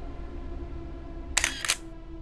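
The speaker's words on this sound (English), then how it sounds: "Let's press the shutter." Two quick camera shutter clicks, close and crisp, sound in succession during landscape shooting on a coastal cliff at golden hour, over faint outdoor background noise.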